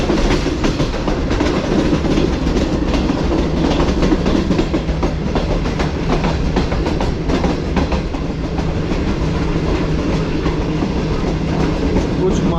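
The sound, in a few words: Tezgam passenger train running into Kot Lakhpat railway station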